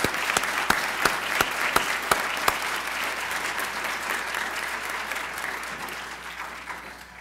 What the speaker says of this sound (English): Would you rise and that's give you a round of applause and thank you for your great work on this.